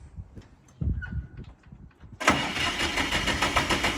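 A small Siromer 304 tractor engine is cranked after fuel bleeding, with faint clicks and handling noises first, then the engine catches and runs loudly and roughly to the end.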